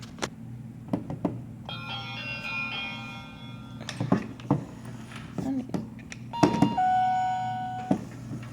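Melissa & Doug wooden toy house doorbell plays a short electronic chime melody, bright ringing tones that sound twice, in the middle and again near the end, amid light clicks and handling knocks.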